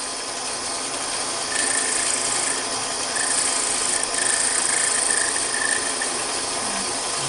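A wood lathe parting off a small turned penguin Christmas ornament, giving a continuous scraping, rasping hiss with faint ratcheting chatter that intensifies midway, close and alone without speech.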